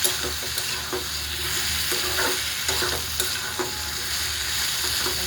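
Bottle gourd and moong dal lentils are stirred in a sizzling pan, with a steady fry hiss and repeated scraping strokes of the spoon, close and fairly loud, with no voices.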